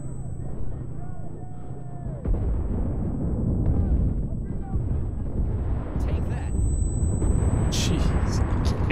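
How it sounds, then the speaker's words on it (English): Dense, rumbling explosions and booming blasts pile up continuously in the video game Enlisted, with bursts of gunfire and a thin electronic tone above, like a chaotic battle scene. "There's explosions everywhere."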